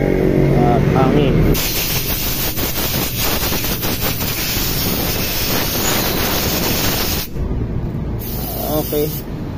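A loud, steady blast of compressed air hisses for several seconds while cleaning a Honda Click 150i throttle body, with short breaks in the middle, up close.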